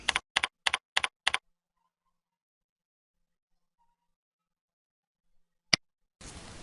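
Five quick keystrokes on a computer keyboard as a username and password are entered, followed after a pause by a single sharp click and then a soft hiss of background noise.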